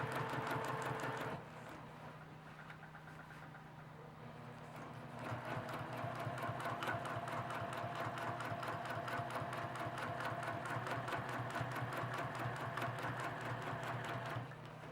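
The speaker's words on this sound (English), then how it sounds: "I'm going to put the first line of stitching on my first line of my ruler and stitch down." A sewing machine stitches a straight line across quilt fabric along a ruler, its needle running in a steady rapid rhythm, pausing briefly near the start before continuing for a long unbroken run.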